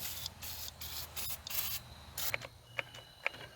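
PB Blaster penetrating oil sprayed from an aerosol can onto the bolts of an abandoned 1979 Dodge D300 truck, a few short hissing bursts close by, followed by small sharp clicks and taps.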